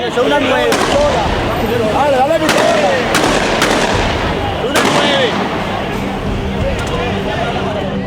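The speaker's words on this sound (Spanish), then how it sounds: "Esta cámara de un canal de televisión registró los disparos hacia el norte de la avenida." Several sharp gunshot cracks ring out at irregular intervals over a noisy outdoor background with voices talking throughout, shots fired near the Puente Llaguno bridge.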